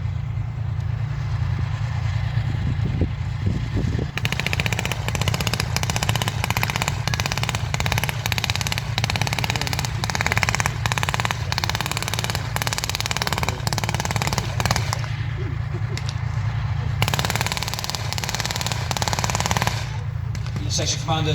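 Rapid bursts of machine-gun and rifle fire during a British Army infantry section attack display at Tankfest, with a Warrior vehicle giving fire support, sustained loud rattling volleys over engine rumble and voices.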